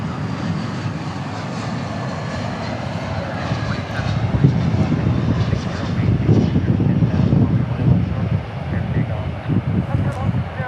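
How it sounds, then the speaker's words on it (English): An American Airlines Boeing 777-300 heavy jet at DFW airport in poor weather gives off a steady, broad roar that swells a little partway through and holds close and loud. "at least we'll get one heavy, 777 American 176 heavy, 777-300"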